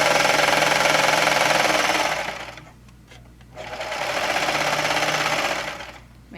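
A serger runs fast and loud while sewing the underarm seam of a knit shirt, with a rapid mechanical whir, then pauses briefly and starts a second run of the same steady stitching hum before stopping.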